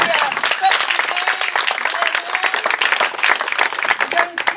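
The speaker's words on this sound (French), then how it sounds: "Et j'aimerais qu'on puisse applaudir toute l'équipe." A church congregation at a baptism applauds in a loud, sustained round of clapping, with voices and cheers mixed into the crowd.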